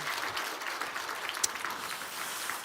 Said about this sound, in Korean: 수고하신 모든 분들 위해서 박수 한번 해주시길